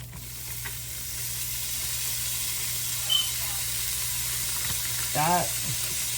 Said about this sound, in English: So you're gonna cut open your ground beef and get it in the pot.